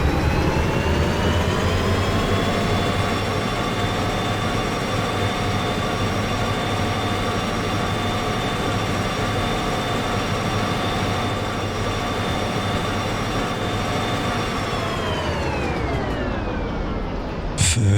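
Train rolling on rails in Derail Valley, a steady loud drone with sustained tonal whine throughout, pitch sliding down near the end as it fades.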